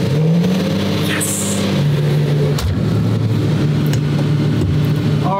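A V12 Lamborghini Diablo firing up, starter cranking giving way to a loud, close engine roar that settles into a rough, steady idle with a deep throbbing tone.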